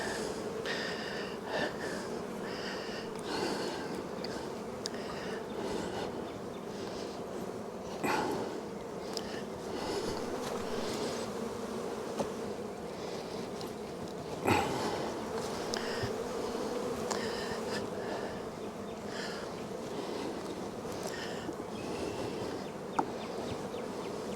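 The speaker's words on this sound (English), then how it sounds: "Keep sweeping bees." A dense, steady drone of many honey bees buzzing around a hive near swarm season, continuous throughout with occasional soft knocks and clicks.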